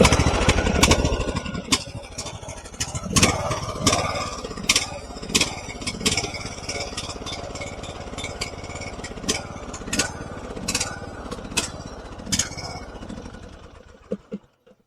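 A small lawn mower engine runs rough and clattery nearby during maintenance work, with sharp irregular knocks over a steady drone, and cuts out near the end.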